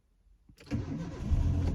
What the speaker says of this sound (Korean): 시동 아주 잘 걸렸어